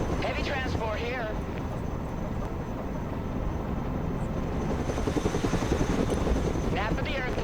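Chinook heavy transport helicopter in the video game Broken Arrow, a steady, dense rotor and engine roar throughout, with brief radio-style voice chatter at the start and end.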